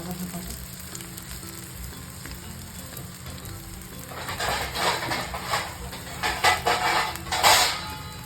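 Spinach dhapate flatbread laid on a hot pan, a quiet background hiss that swells into loud, crackling sizzling bursts in the second half, with faint utensil clinks.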